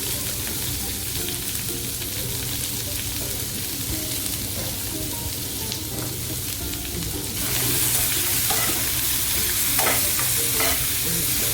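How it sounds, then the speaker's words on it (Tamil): Curry leaves and onion sautéing in a pan for snake gourd poriyal, a loud continuous sizzle with constant stirring and scraping that grows a little brighter partway through. "கருவேப்பிலை, வெங்காயம் நல்லா வதங்கட்டும்."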